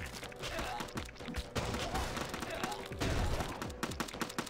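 Rapid bursts of gunfire in the zombie game Dead Ahead: Zombie Warfare crackle continuously, dense and layered, with occasional heavier thumps mixed in.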